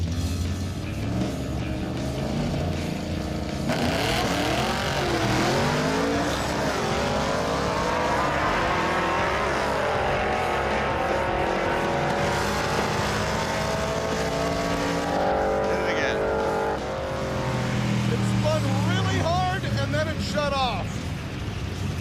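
A drag race car with raised launch RPM roars off the line and accelerates hard, the loud engine note sweeping upward through gear changes, with a second rising engine pass near the end and crowd or announcer noise mixed in.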